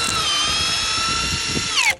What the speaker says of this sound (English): we got the XGT drill from Makita here